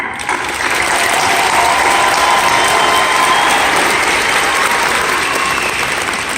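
A graduation ceremony audience applauds the graduates with dense, sustained clapping that fills the hall, loud and steady from start to finish with no speech over it.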